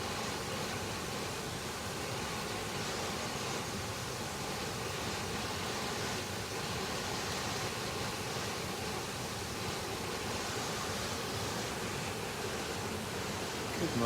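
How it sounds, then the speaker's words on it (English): Running water flows steadily outdoors in the morning, a soft, even, rushing hiss that holds at a constant low level from start to finish with nothing else breaking through. "The soothing sound of running water."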